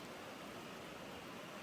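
Steady rain pours down outside a van workshop, a dense, even hiss of drops with no breaks, soft and constant throughout.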